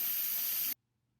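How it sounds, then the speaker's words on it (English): Instant Pot pressure release vents steam in a loud, steady broadband hiss after cooking Nigerian beans, cutting off abruptly after under a second into near silence. "I'm going to use the release function just to get the pressure off and then open the pot"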